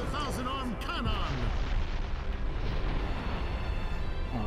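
A Naruto fighting game's Sage Art Wood Style thousand arm cannon attack unleashes a rumbling barrage of booming impacts and blasts, loud and sustained with no pauses.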